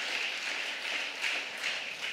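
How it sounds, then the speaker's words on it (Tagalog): A church congregation claps loudly and steadily during a preaching service, a dense, continuous wash of applause from many hands with no voices heard above it. "pumalakpak ng napakalakas na palakpak sa ating mahal na Panginoon"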